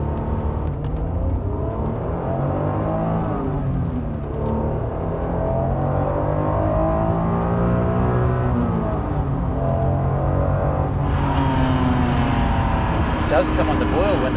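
A 1992 Honda NSX's engine revs hard and steadily climbs as VTEC engages, a loud sustained mechanical whine rising and falling in pitch, with a voice briefly heard near the end.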